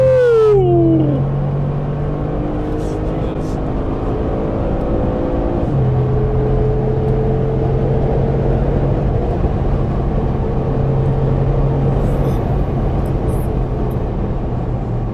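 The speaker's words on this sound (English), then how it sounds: "Twin turbo, 800 horsepower on the" An 800 horsepower twin-turbo Brabus surges on the German autobahn, engine pitch sweeping down with each upshift then holding a loud, steady roar amid wind and road noise, heard from inside.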